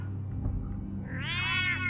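A cat in the video game Batman: The Telltale Series gives a single drawn-out, rising meow over a low steady game background hum, loud and close.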